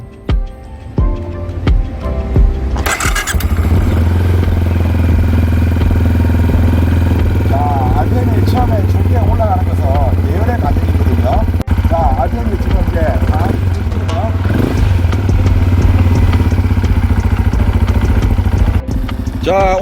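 A Benelli Imperiale 400 ABS motorcycle engine cranks and catches after a few seconds, then settles into a steady, loud idle that runs on with light clatter.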